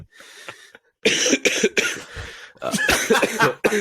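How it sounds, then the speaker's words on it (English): Several harsh coughs come in quick bursts, close and loud, with brief pauses between them. "He's perfectly timed cough."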